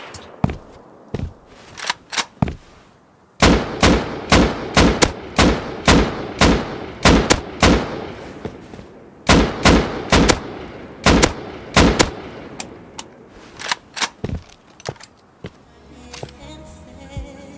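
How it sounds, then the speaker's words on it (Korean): Rapid bursts of gunfire in the survival video game Rust, loud sharp shots in quick clusters and volleys with brief gaps, some close and some trailing off, with no talk. "총소리 들린다."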